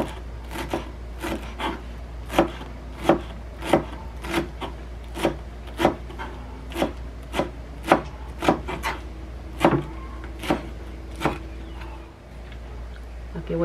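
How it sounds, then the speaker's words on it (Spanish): Fresh cilantro chopped with a knife on a board, a run of crisp, fairly close, evenly spaced chops tapping steadily over a low background hum. "El cilantro se lo voy a picar picadito."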